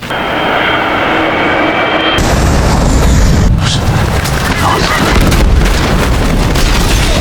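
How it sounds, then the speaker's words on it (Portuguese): Airliner engines failing after a bird strike in a dramatization of US Airways flight 1549, heard as a loud, continuous roar with wind-like rushing that swells and holds steady, with no talk over it. "Colisivos com pássaros, perdemos força nos 2 motores."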